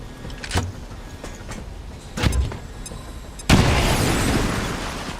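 Grenade going off in the modded XCOM tactical game, a couple of distant pops followed by one sudden loud blast that trails into a long rumbling roar.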